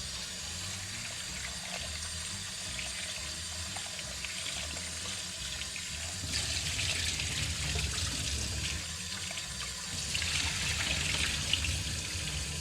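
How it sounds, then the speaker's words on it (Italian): Running tap water pours steadily over cut potatoes being rinsed in a sink, a continuous close splashing wash that grows louder and fuller partway through, with no talk. "Le patate sono state tagliate e adesso verranno sciacquate sotto acqua"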